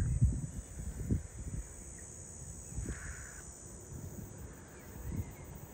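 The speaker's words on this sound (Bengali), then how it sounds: "আর এই ঝিঝি পোকার ডাক।" Crickets chirp steadily in a botanical garden overlooking a city, a continuous high trill running beneath intermittent low thumps and handling noise, with a crow cawing once in the middle.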